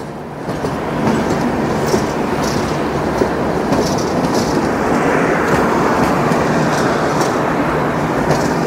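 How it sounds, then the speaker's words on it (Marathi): A passenger train pulls away from Pernem station in Goa toward Madgaon during the monsoon, a loud continuous rumble with rhythmic wheel clatter close by, no voices. "ती ट्रेन रिटर्न गेलेली आहे मडगावला आणि चालली मुंबईला"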